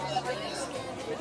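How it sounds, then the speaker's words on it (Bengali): A dense crowd murmurs at the packed Baidyanath Dham temple, a steady babble of many overlapping voices close around, with no single speaker standing out. "প্রচন্ড ভিড় এখানে, আর প্রচুর লাইন পড়েছে আজকে।"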